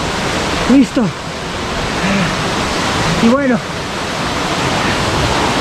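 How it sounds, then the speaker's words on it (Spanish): A waterfall along a trail-running route in Ocoyoacac, Estado de México, gives off a continuous rushing roar close by, with someone speaking briefly over it. "aquí está la cascada que nos prometieron"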